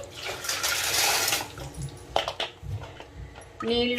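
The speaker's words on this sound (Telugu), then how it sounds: "ఇప్పుడు వేస్తున్న నీళ్ళు" About one litre of water is poured into a pot while making orugulu, dried okra and gourd pieces set to soak with salt, a gushing splash early that tapers off into scattered drips, with a voice talking over the end.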